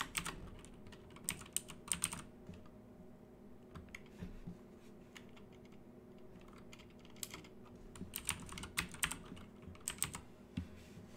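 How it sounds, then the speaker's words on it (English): Rapid bursts of keyboard typing on a computer keyboard, close and fairly quiet, coming in clustered runs of clicks separated by short pauses over a low steady hum. "what you want to do is type in horizontal"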